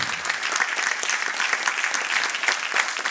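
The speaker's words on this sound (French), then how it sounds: "qui est monsieur Moussa Kemoko Diakité, que j'applaudis et que je vous demande d'applaudir grandement" An audience at the closing ceremony of the 7th FIFI film festival applauds steadily. Dense, even clapping fills the room without pause for a few seconds.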